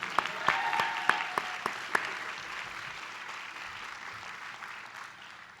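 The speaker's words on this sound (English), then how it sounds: "Let's give a round of applause to them." An audience at a law school graduation ceremony applauds staff and professors, with a few sharp individual claps standing out early before the clapping settles into a steady, fairly distant patter that gradually fades.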